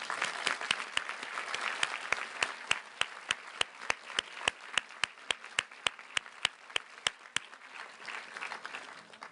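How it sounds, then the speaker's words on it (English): A graduation ceremony audience gives a steady round of applause that carries on for several seconds, with a few sharp individual claps standing out above the continuous patter of many hands. "let us give you a round of applause for all of you've done for these students."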